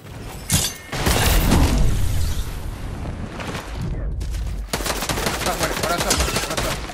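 Bursts of rapid gunfire from the Fortnite video game, Chapter 4 Season 5, loud and sustained across most of the moment with a short gap midway, with no talk over it.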